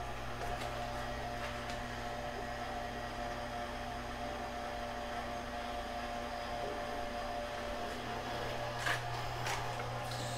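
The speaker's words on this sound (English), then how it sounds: "You can hear the pump." A water pump on a 30,000-gallon water tank runs with a continuous low hum and steady whirring drone, even in level throughout, with a few faint clicks; no one speaks.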